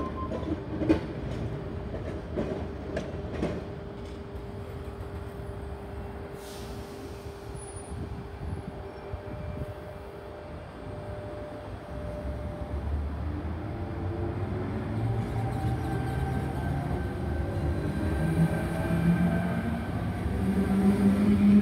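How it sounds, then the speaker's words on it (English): A Sydney Tangara train set pulls out of Loftus station platform, with rhythmic wheel clicks over rail joints early on, then a rising, steady rumble and faint squeal as it gathers speed nearby. "Here we have Tangara Set T59, now departing platform number 2,"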